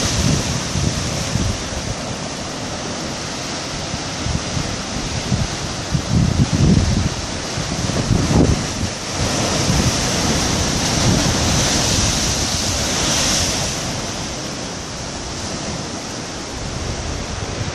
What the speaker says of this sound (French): Je me trouve toujours au-dessus de la déferlante, de la houle du moment.